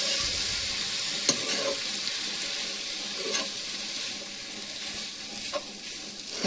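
Chicken noodles fry in a pan, giving a steady close hiss and sizzle with occasional soft scrapes and taps as they are stirred, no voices.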